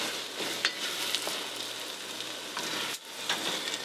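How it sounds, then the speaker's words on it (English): Beans frying in a modest amount of oil in a pan at home for a bean stew with plantain, a steady close sizzle with crackling pops and brief stirring scrapes, no talk. "We're gonna fry the beans."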